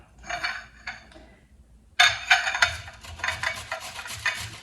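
Fresh turmeric root is rubbed on a grater in close, rasping strokes, a short burst, a brief pause, then a longer run of quick repeated scrapes.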